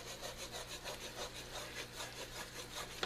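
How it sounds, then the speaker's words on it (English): A spoon stirs French onion soup and scrapes across the bottom of the pot, giving a steady rhythmic rasping and rubbing, close and fairly quiet, with no voices. "Gonna stir it again. Scrape more of the bottom."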